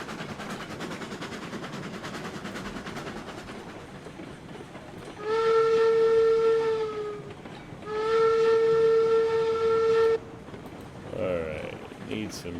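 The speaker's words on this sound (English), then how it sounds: "Train's obviously going to chug up here decently" A steam train in RailRoads Online rumbles along, then blows two long, loud whistle blasts a moment apart, with a short hoot after and a chugging rumble underneath throughout.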